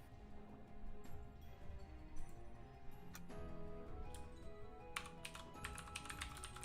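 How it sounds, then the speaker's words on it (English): Soft, steady clicking of keys typed at a computer keyboard, a quick irregular patter with a few sharper clacks, heard close and alone at low volume. "I'm still typing."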